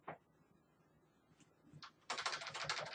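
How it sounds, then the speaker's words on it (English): Typing on a computer keyboard comes in a quiet tap, a few scattered soft clicks, then a dense burst of rapid keystrokes near the end, close and clear. "You can add lightning by typing in lightning."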